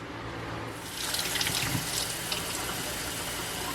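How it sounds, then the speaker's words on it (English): Water from a sink tap runs steadily as plastic hummingbird feeders are rinsed beneath it, a close, continuous splashing that grows louder after the first second and holds at an even level. "So I'll go to the sink and rinse these out"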